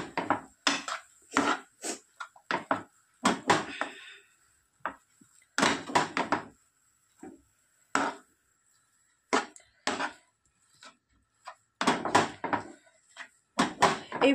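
Spatula scraping and clinking against a pan while spiced potato filling with chopped coriander is stirred for aloo paratha, in irregular close bursts separated by short silences.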